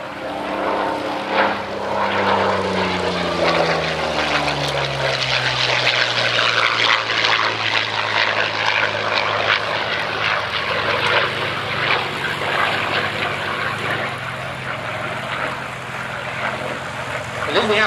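A Yakovlev Yak-3 warbird fighter, a 1990s two-seat Orenburg-built example, flies past at an airshow, its propeller engine droning steadily with a gradual pitch shift as it passes.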